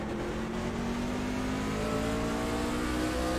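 Race truck engine revving hard out of a corner at Martinsville in a racing video game, a loud continuous drone with rising pitch as the throttle opens, with no voices.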